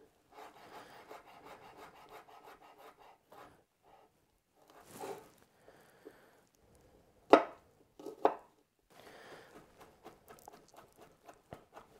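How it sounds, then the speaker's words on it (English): Peeled garlic cloves chopped finely with a knife on a board, giving soft rapid rhythmic taps and scraping with a few sharper knocks, close and alone. "So I'll just chop those fine."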